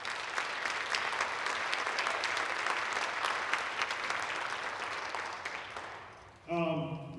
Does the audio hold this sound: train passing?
no